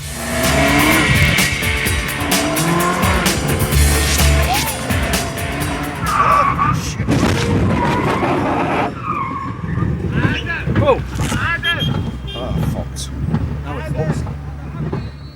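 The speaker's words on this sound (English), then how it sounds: "and for Manchester's finest, Dean and Paul, the wheels are about to come off their Gumball." Cars on the 2004 Gumball 3000 rally skid with long tire squeals and revving engines, loud and continuous, mixed with people talking and shouting throughout.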